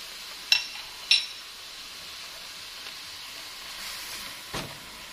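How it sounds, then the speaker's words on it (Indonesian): Spices sauté in a pan with Himalayan salt and palm sugar for nasi kebuli, a soft close sizzle under two sharp utensil clinks early on and a later scrape, fairly quiet with no talking. "Ditumis hingga wangi."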